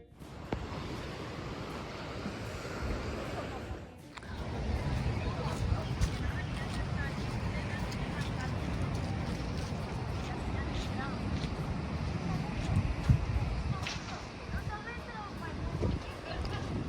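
Strong coastal wind on the Costa del Sol, Spain, where people are windsurfing, roars and buffets continuously at close range over a broad rush of surf, with voices faintly mixed in.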